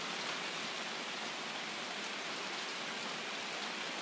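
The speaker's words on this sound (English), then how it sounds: "It's very loud with this rain." Steady, dense rainfall in Escape From Tarkov on the Shoreline map, hissing evenly throughout, a constant wash of noise with no pauses or voices.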